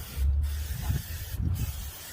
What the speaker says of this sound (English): Got some spray butter.